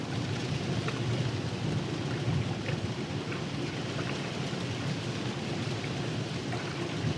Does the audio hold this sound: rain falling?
yes